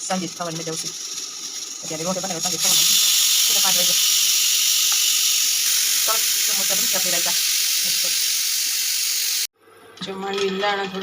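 Ingredients for dosa chutney roast in a hot oiled pan, giving a loud, steady sizzling hiss that continues throughout and cuts off near the end. Someone talks over the frying.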